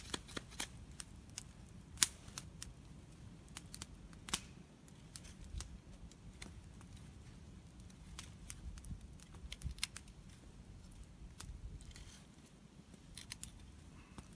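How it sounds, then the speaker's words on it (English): Condor camp knife carving a hook-style pot hanger notch into hard, dried elm: a series of quiet, sharp cuts and scrapes at an irregular pace, with soft handling noise in between. "Let's just do a regular old hook pot hanger type notch."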